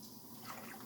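Cooking liquid from Instant Pot pulled pork pours into a Pyrex measuring cup, a soft, brief, continuous splashing trickle, faint and close.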